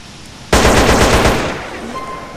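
A burst of rapid automatic fire from an M4 rifle in GTA San Andreas, loud and close, starting abruptly and trailing off into a ringing fade.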